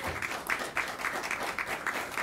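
Applause for school-related employee finalists at a Teacher of the Year ceremony, a steady patter of clapping from a modest crowd with a few louder individual claps, no voices over it.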